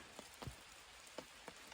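Light rain falling outdoors on a rainy, warm day at a wilderness campsite, with scattered soft drop impacts over a faint, steady hiss.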